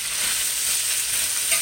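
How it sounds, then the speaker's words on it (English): Peppers and onions sizzle and fry in a roughly 20-inch wok on high heat, a loud, constant hiss up close with faint stirring scrapes and no talking. "I always keep my stir fry stuff on high heat"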